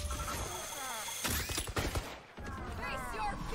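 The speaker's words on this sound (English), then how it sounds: "chamber shot at me" Gunfire in the competitive shooter Valorant, with a few sharp shots and rattling bursts over game sounds and ability effects, with players talking.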